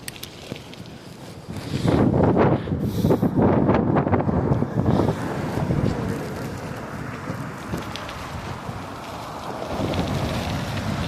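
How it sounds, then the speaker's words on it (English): Wind buffets a bicycle microphone while a cyclist rides downtown through Toronto, a gusty roar swelling loudly for a few seconds before settling into a softer, steady rush. "I'm definitely riding against the wind"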